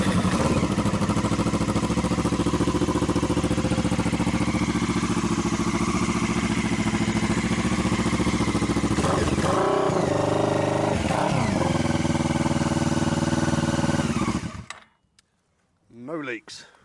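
A motorbike fitted with a silicone-sealant gasket is started and revved, a loud, dense engine roar running steadily for about fourteen seconds before cutting out, followed by a short voice.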